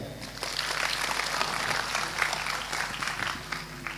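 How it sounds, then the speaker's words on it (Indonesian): Audience applause at a large community gathering at a police headquarters in Malang, a steady wash of many hands clapping heard from some distance, moderately quiet and even throughout with no talking. "Tepuk tangan untuk Mbak Nia."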